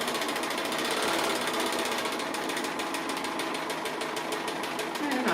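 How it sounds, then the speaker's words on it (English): A sewing machine double stitches a quilt along a stencil, a steady dense mechanical whir with rapid needle clatter running continuously and close throughout. "going to come around that again because I'm going to double stitch everything"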